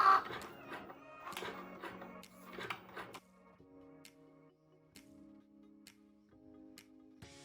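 A Cricut Joy cutting machine drawing on smart label vinyl makes soft rhythmic ticking and whirring motor steps, close and quiet, with brief tonal hums as the carriage moves.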